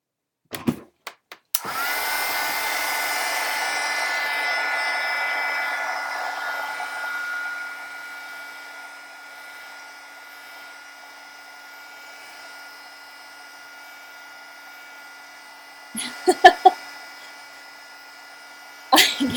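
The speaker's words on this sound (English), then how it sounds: "now I'm gonna dry it again" A hair dryer blows on a shabby chic craft card with a loud steady whir after a few clicks, then drops to a lower setting and cuts off, followed by brief handling clatter.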